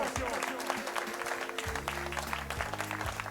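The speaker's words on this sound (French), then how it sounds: "on applaudit Stéphane pour sa participation" An audience applauds a karaoke contestant at a singing competition semi-final, with a steady wash of clapping throughout and a low droning hum and chatter mixed underneath.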